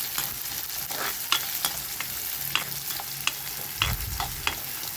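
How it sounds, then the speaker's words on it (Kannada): Onion, green chilli and curry leaves frying in hot oil for broad bean upma, a steady close sizzle broken by repeated spoon scrapes and clinks against the pan, with no talking. "ಉಳ್ಳಾಗಡ್ಡಿ ಮತ್ತು ಮೆಣಸಿನ್ಕಾಯಿ ಸ್ವಲ್ಪ ಕರಿಬೇವು ಹಾಕ್ಕೊಂಡು ಫ್ರೈ ಮಾಡ್ಕೊರಿ"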